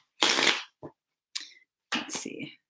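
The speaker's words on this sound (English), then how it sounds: "let me just do one more shuffle." Several short, crisp bursts of riffling, a few quick tarot card shuffles in close succession with brief pauses between them, no talking.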